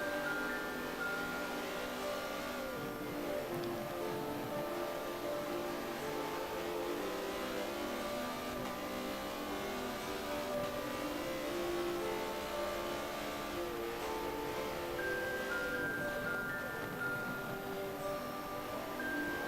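Lamborghini and Porsche race cars during a GT race, engines whining and revving continuously at high pitch, with rising and falling tones as several cars accelerate and shift, steady and fairly loud with no talk.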